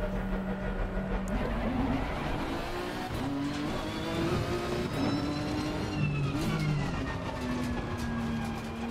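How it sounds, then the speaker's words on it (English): Race car engine in the Assetto Corsa Competizione racing game, played on a Logitech G920 wheel with shifter, revving and shifting through gears continuously with tire squeal over a steady, dense roar. "You can hear the car and everything."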